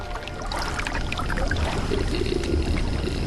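Liquid flows steadily in the physics game Puddle, a continuous pouring, trickling wash of water that stays at an even, fairly loud level with no voices.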